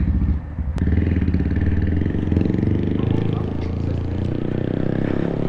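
A DIY electric bobber motorcycle pulls off and rides away with a loud, steady motor whine and rumble that holds throughout, after a brief sharp click near the start.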